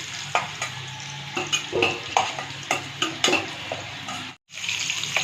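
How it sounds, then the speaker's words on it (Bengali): Potatoes frying in oil in a pan in a home kitchen, with steady close sizzling broken by repeated stirring scrapes, then a brief drop to near silence before the sizzle resumes. "আলুগুলো আবার লাল করে ভাজা হয়ে গেছে"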